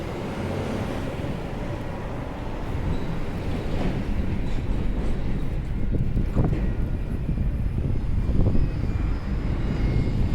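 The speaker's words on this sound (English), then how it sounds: "I have a feeling it's going to be windy down here." Wind blowing outdoors in a residential area, a steady broad low rumble that swells slightly and gusts throughout, loud and continuous with no talking.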